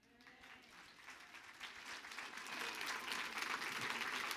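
A church congregation at an annual conference applauds and cheers in worship, a dense wash of clapping that swells steadily louder and fuller over several seconds, with no clear talk above it.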